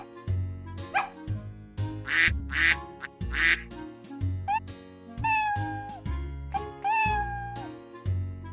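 Cartoonish animal sound effects alternate in quick succession: a cat meowing and a duck quacking, with bright, tonal calls that rise and fall over a repeating bouncy background beat, no speech.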